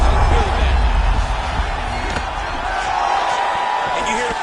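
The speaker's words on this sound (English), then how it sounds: "you hear the crowd react every time they come together" A UFC 5 video game arena crowd roars and swells over the sound of strikes landing in an MMA fight, with a sharp thud early on. A commentator's voice runs underneath.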